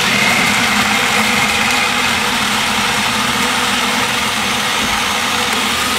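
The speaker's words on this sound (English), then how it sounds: "I'm gonna mix my cranberries, my pepitos, and my pecans in my food processor" A food processor chopping cranberries, pepitas and pecans runs as a loud, steady whirring motor with a gritty rattle, holding constant for the full six seconds.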